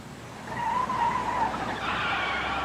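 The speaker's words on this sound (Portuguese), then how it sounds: "Chefe está derrapando." Car tires skid and squeal in a sustained screech lasting over a second, followed by continued road noise and tire hiss, loud and close with no voices.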